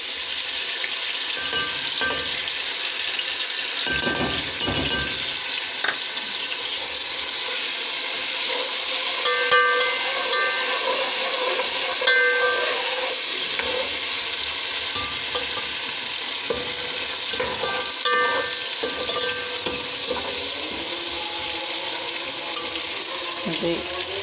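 Garlic-ginger paste sizzles and fries in a pan while being stirred for aloo methi, a steady close crackle that continues throughout, with scraping and faint clinks over it.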